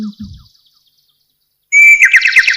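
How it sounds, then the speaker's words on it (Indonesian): Bright, rapid bird chirps burst in after a near-silent stretch, a quick repeating trill close by and fairly loud. "Suara kicau burung"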